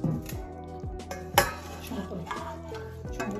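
Chopped liver and vegetables are tipped into a deep dish with clattering, scraping and clinking of utensils against the dish. Short bursts come at an uneven pace, close by.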